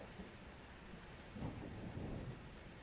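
Rain hisses steadily in the Grand Tactician video game, with a low roll of thunder rumbling through partway, faint and brief with no voices.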